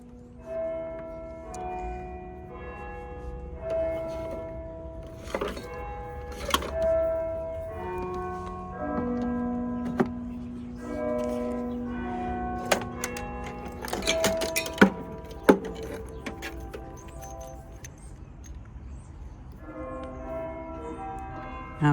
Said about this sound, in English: Wait for the bells to stop banging.